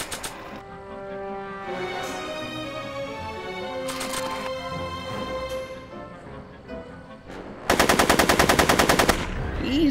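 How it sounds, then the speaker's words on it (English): Gunfire in a Western-style film scene: a rapid burst of loud, close shots erupts near the end over a tonal music score that plays throughout. "Are you shooting at me?"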